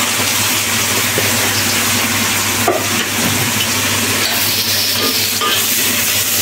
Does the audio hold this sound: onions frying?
yes